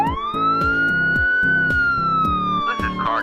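Police car siren wailing loudly and close, a sustained rising and falling tone with a rhythmic pulsing underneath, heard alone.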